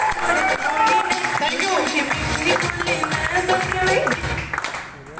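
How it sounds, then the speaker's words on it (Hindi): A network marketing core meeting crowd in Lucknow gives loud, dense, sustained applause that fills the hall, with someone speaking over the clapping before it tapers off. "एक बार जोरदार तालियां बजाइए।"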